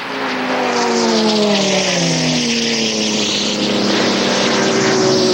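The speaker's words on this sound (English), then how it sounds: "Lindbergh flew the Spirit of St. Louis at just over 100 miles per hour." Propeller airplane the Spirit of St. Louis, flown by Lindbergh, roars loudly and close for several seconds, a steady engine drone whose pitch slides and wavers as it passes, with no voices.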